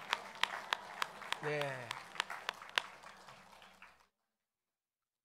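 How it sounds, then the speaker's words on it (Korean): Church congregation clapping together during a Sunday service, a burst of sharp claps over a few seconds, with someone speaking briefly over them before the sound cuts off. "함께 박수하겠습니다"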